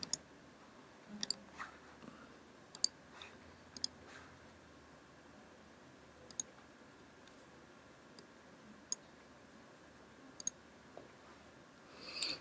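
Sparse, crisp computer mouse clicks while drawing a shape with the pen tool in a design app, light taps scattered irregularly across a quiet room, faint and close with no voices.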